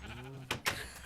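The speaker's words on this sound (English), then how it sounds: "This time we're going to grab a sheep." Two short sheep bleats in Minecraft with the FTB Unstable 1.8.9 modpack, close and fairly loud, separated by a brief pause over a low game background.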